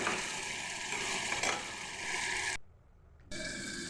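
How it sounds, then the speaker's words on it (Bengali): Fish sautéed in a pan with a spice mix of cardamom, cinnamon and cloves, a dense close frying hiss that drops out briefly before resuming. "মাছটা ভালো করে কষিয়ে নেব।"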